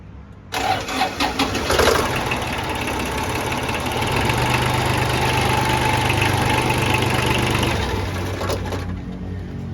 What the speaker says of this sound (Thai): เมื่อกี้เราสตาร์ทเสร็จแล้วเราไม่ต้องเผาหัวนะครับ ติดเลย ติดง่ายครับ